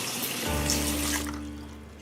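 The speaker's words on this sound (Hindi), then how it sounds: "टैप बंद करो ना, पानी वेस्ट हो रहा है।" Water rushes steadily from an open tap into a sink, a close, continuous splashing stream with a low hum settling in partway through.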